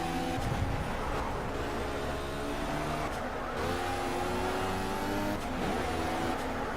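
A race car engine in the Project CARS racing game drones steadily at high revs, a loud continuous whine with slight pitch shifts as the car is driven around the track.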